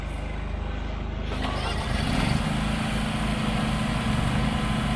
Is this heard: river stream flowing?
no